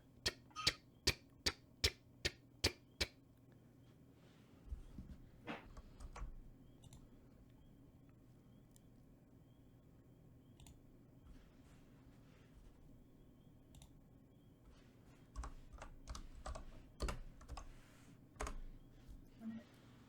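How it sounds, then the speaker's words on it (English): Rapid, evenly spaced clicks of typing tick along at the start, fade to a faint hum, then return in irregular bursts of keystrokes near the end. "And you hear the ticking noise once again."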